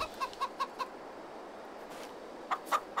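Chickens give short bursts of clucks, a quick run of four notes, a quiet pause, then another brief cluster, soft and nearby with no voices.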